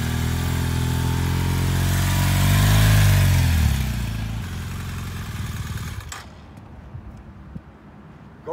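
A motorcycle engine revs loudly up close as the bike feathers its clutch through a tight full-lock turn, the pitch climbing then falling away, with faint clatter afterward.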